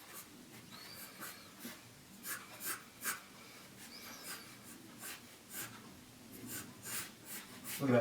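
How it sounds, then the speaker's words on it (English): A pencil scratches on paper, drawing Bulbasaur's mouth in short, quiet strokes in an irregular rhythm, close and with no talk. "and then drawing the mouth."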